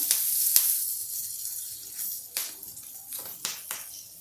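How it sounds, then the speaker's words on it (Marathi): Garlic, ginger and chillies sizzling in hot oil over full gas heat for wheat-flour chowmein, a steady close hiss broken by sharp scraping bursts as the spatula stirs repeatedly. "लसूण आलं आधीच घालतातच थोड्याशा मिरच्या आणि हे फुल गॅसवरच करायचं असतं त्यामुळे याला सतत हलवावं लागतं"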